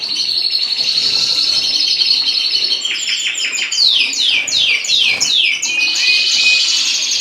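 Newly hatched SML canary chicks and a red ivory Isabel canary hen in an indoor bird room, with continuous high thin chirping and a run of rapid rising tweets in the middle, close and steady, no talking.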